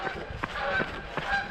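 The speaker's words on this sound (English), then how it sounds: "Now we got some geese. It's that time of year with the geese." Geese honking near a trail during a 50k trail run at Lost Creek Lake, a few short calls repeating over steady outdoor background noise.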